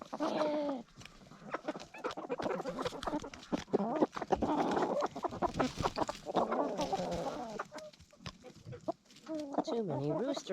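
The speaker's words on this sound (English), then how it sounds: "Too many roosters in here." A crowded flock of roosters and hens clucks and squawks on a cold winter morning in a coop, busy overlapping calls near and far, with a person talking among the birds.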